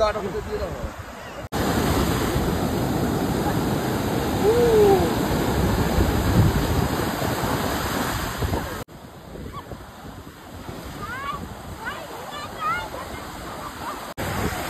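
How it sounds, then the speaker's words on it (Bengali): Heavy high-tide sea waves break at Puri beach in Odisha, a loud continuous surf roar close to the shore that drops slightly in level partway through, with no pauses between breakers. "প্রচুর ঢেউ আজ,"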